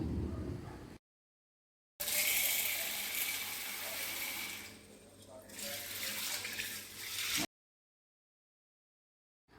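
Cowpeas are washed under running water, a continuous splashing rush with a short lull midway, close and fairly loud.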